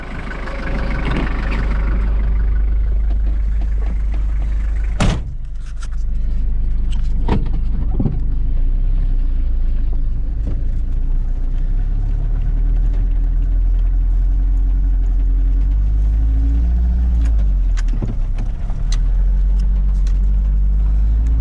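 Steady low engine drone inside a moving Toyota on a road in Yakutia near Mirny, with occasional clunks and bumps from the cabin over the constant rumble.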